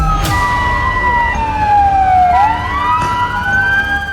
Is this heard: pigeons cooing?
no